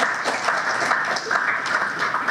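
Audience applause at a gathering celebrating ʻŌlelo Hawaiʻi, a short burst of dense, even clapping from a crowd, moderately loud and continuous.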